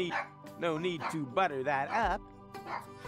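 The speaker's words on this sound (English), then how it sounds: "Hey, that's my dog barking." A dog barks and yips in the room, short sharp calls scattered through the clip, mixed in with someone talking over a game.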